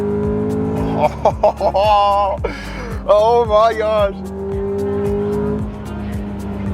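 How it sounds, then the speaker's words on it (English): A Honda Accord Euro S CL9 revs hard under acceleration, engine pitch climbing through the gears with VTEC engaging, heard close from inside the cabin while the driver talks excitedly over it. "Hear the VTEC."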